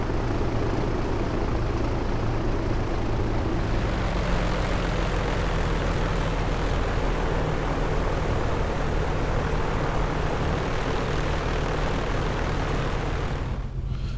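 An A2A Accu-sim Bonanza piston engine drones steadily while taxiing in the P3D flight simulator, a loud, continuous propeller hum with a slight shift in tone partway through and no talking.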